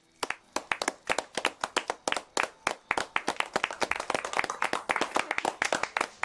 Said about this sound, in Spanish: ¡Un aplauso para el orador!